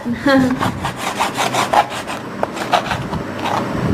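A knife cuts through a giant bitter lemon, giving a run of close, rough scraping and sawing strokes with short pauses between them, and no voices.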